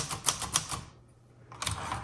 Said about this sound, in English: It's a 1960s Singer travel typewriter.